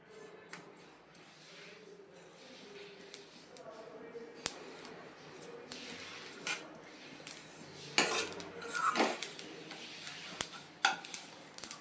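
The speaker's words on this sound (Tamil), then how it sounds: "எள்ளு வந்து வறுத்த உடனே பொரிய ஆரம்பிக்கும்." Sesame seeds for ellu urundai roasting in a pan, giving small scattered pops and clicks that grow busier toward the end, with a few metallic scrapes and quiet talk.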